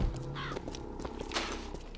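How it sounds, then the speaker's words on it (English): Crows cawing in the Bioshock Infinite video game, several harsh calls scattered over a short stretch against a busy ambient game background with faint tapping sounds. "It's a flock of crows."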